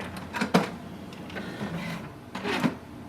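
An HP Smart Tank 5000-series printer runs, giving two bursts of mechanical whirring and clicking roughly two seconds apart with quieter motor hum between them and no voices.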